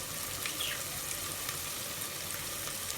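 Chicken frying with spices in a pan, a soft, even sizzle at low level with no other sounds over it.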